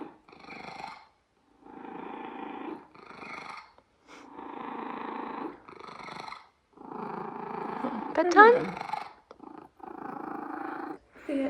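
Thea, a spoiled pet cat, purrs steadily close up in soft rhythmic pulses while someone speaks briefly at bedtime.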